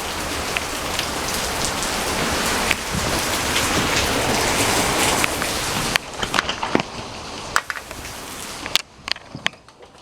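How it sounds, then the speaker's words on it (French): Heavy rain pours down in a steady loud wash, then thins out into scattered close drips and splashes near the end, with no voices. "Il mouille beaucoup."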